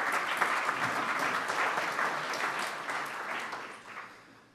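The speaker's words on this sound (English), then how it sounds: "Let's give him a round of applause." A meeting audience claps for a club's sergeant at arms: a full, even round of applause from a room of people that gradually fades out.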